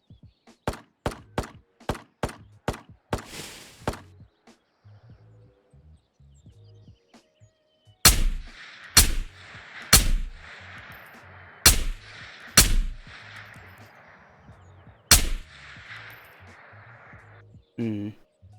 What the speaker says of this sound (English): So we did hear gunshots down there.